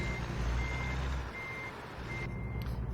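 Steady electronic reversing beeps from a truck in American Truck Simulator, Oregon map, repeating at a regular rhythm over a low engine rumble, with no talk.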